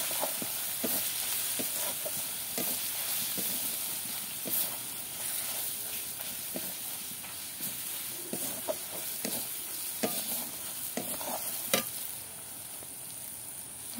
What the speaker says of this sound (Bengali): এই লঙ্কা হলুদ গুঁড়ো দিয়ে দিয়েছি। যে ভালো করে একটু নাড়াচাড়া করে নিচ্ছি।